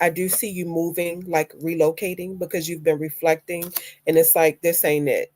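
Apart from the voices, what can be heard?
No everyday noises stand out.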